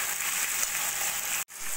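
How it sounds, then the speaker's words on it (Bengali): Chopped onion and tomato frying together in a pan for a dal chicken tarka, a close, steady hiss of sizzling oil with one short break, no speech. "সব কিছু মিশিয়ে একটু ভাজা ভাজা করে নেব।"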